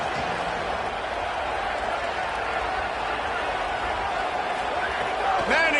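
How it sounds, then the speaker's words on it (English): A football stadium crowd at a Texas versus Ole Miss game roars in a dense, continuous wash of cheering and noise that stays loud throughout, with broadcast commentary faintly mixed in. "Manning trying to quiet this crowd"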